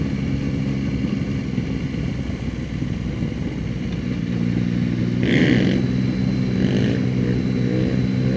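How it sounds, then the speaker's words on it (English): A motorcycle pulls a wheelie on a street, its engine droning steadily with a brief rise in revs and some clatter partway through, heard from a moderate distance. "That guy is doing a wheelie."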